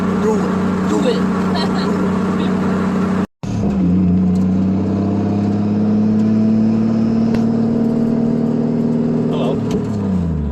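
A Toyota Supra MA70 drives along with a steady engine drone that climbs in pitch as it revs, heard from inside the car, with a person talking over it.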